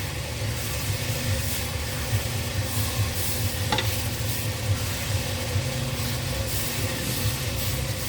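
Beef tapa sizzles steadily while it is stirred in an electric frying pan, with an even frying crackle and soft utensil scrapes throughout.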